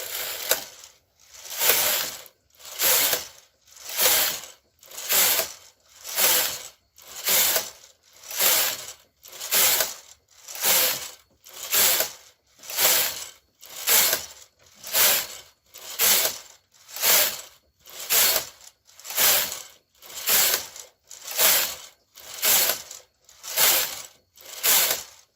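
A domestic knitting machine carriage pushed back and forth across the needle bed for rows of a sock mitten, about twenty regular ratcheting sweeps with a short gap between each, close and loud with no talk.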